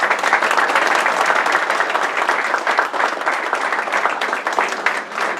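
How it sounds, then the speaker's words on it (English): Audience applause fills a community meeting at a mosque, Masjid Isa, with many hands clapping at a steady, dense level for several seconds without any speech. "give them a round of applause"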